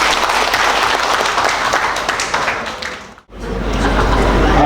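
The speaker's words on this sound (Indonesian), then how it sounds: "Tepuk tangan untuk Kota Kediri" A large audience at a city development planning meeting in Kediri breaks into loud, dense applause that carries on steadily, fades out for a moment, then swells back strongly.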